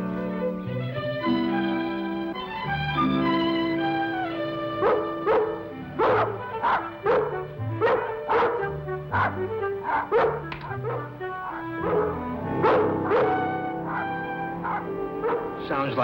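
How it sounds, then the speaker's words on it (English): Dogs yip and bark in short playful bursts, including a collie, over a bed of sustained orchestral TV music in a 1965 black-and-white drama scene. "She's a beaut, ain't she? Name's Lassie"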